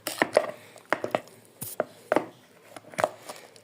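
Spoon scraping the bottom of a container of homemade laundry detergent, heard as a run of irregular scratchy scrapes and knocks, close and fairly loud, with no talking.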